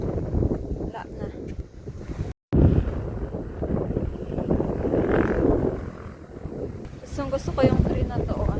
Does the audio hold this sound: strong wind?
yes